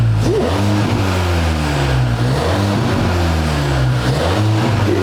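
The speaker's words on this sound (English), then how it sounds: "Just give it a little rev." A Leon MK4 ST estate car with a newly fitted quad exhaust revs loudly up close, the engine note rising and falling through several blips over a steady rumble.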